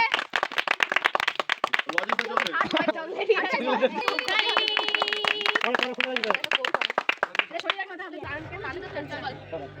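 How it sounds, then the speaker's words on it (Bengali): Clapping for a second-prize winner at a family prize-giving event, mixed with excited chatter and shouting voices, with sharp claps running through most of the stretch before fading near the end. "আরে হাততালি দাও জোরে"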